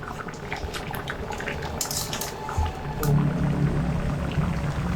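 Lentils simmering with chopped banana flower on high heat, a steady low bubbling and gurgling that thickens and grows louder partway through, with occasional light clinks from the pot.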